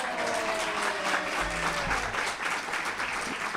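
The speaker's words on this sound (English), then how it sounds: "so another round of applause" A graduation ceremony audience for internal medicine residents claps steadily throughout, a dense, sustained round of applause with faint crowd murmur underneath.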